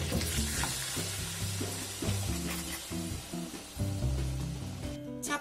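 Water poured into a pan of browning pork chops sets off a busy crackling sizzle with stirring and clinks, continuing steadily throughout.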